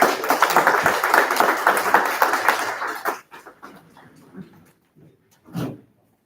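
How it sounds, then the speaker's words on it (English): A city council meeting audience applauds city workers, loud dense clapping for about three seconds that then thins into a few scattered claps and faint shuffling sounds. "please give these men a big round of applause"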